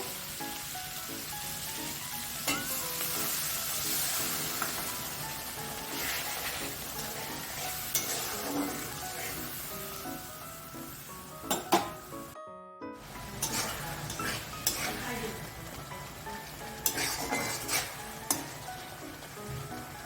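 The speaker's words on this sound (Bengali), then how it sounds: "ভালো করে মশলাটা কষিয়ে নিব।" Spice paste for vegetarian ghugni being stir-fried in a pan with a little water, a continuous close sizzle broken by repeated scraping and stirring clatters. The sound cuts out briefly once.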